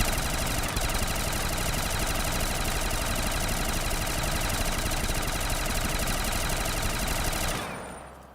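A burst rifle fires in Black Ops 3 Zombies, a dense, loud, unbroken stream of rapid shots lasting about seven seconds and then fading out abruptly, with no talking over it.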